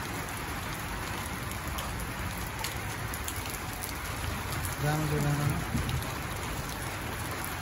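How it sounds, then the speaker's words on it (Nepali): Heavy rain pours steadily on a mountain hike at Jamacho near Nagarjun, a loud, dense hiss throughout, with a person briefly speaking partway through. "क्या मजाले पानी पर्यो"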